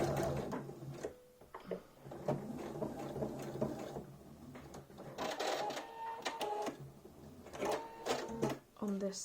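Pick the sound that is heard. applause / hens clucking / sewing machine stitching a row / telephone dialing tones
sewing machine stitching a row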